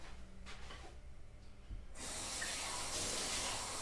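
Water pouring into a glass for a drink, starting quietly with faint handling knocks, then a loud, steady hissing stream that runs continuously to the end.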